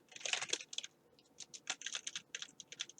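Fast typing on a computer keyboard while writing Python code, with bursts of crisp key clicks, a short pause, then a second run of steady keystrokes, close and fairly quiet.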